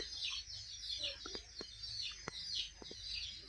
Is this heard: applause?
no